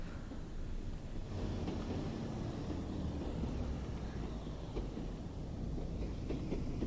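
A train running on rails in the Train Sim World 2 game on the Tees Valley Line, a steady low rumble with faint rhythmic clicks of wheels over track joints, continuous and fairly loud, with no voices.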